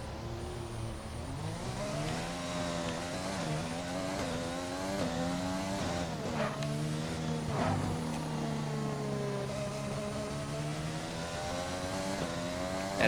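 An F1 car engine in an F1 video game set at the Belgian Grand Prix screams at full throttle, its pitch rising and falling steadily through gear changes, loud and continuous.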